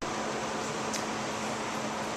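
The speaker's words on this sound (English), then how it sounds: "I should apologize for the fan noise." A fan runs in a hot room, giving a steady, even whoosh with no change over the short stretch and no voices.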